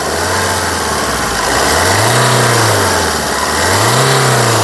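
A 2015 Tata Zest XE car engine revs up close and loud, rising in two smooth swells over a steady idle.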